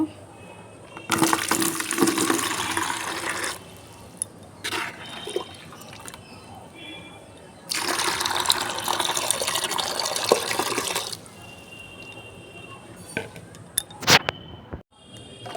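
Water is scooped and poured from a container of fermented vegetable and fruit peel liquid fertilizer in two long splashing bursts, followed by lighter trickles and a few sharp knocks near the end.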